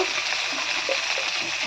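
Potatoes fry in oil in a wok, giving a brief, steady, close sizzle with faint crackles.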